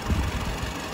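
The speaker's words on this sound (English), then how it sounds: "The 2-liter turbocharged inline four-cylinder petrol engine with 185 kilowatt and 252 horsepower." A BMW X3 (G01) 2-liter turbocharged inline four-cylinder petrol engine running, a steady close low rumble with a slight rough pulse, heard alone for a brief moment.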